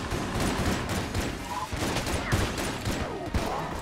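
Plague Pistol gunfire in Enter the Gungeon, a steady stream of quick, muffled shots layered over busy game effects, fairly loud and continuous throughout.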